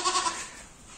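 Sheep on a village goat farm bleating while eating fodder: a short, faint, wavering bleat at the start that fades into quiet background.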